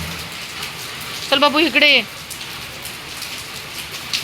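Steady rain hisses evenly throughout, with a short burst of a person speaking near the middle.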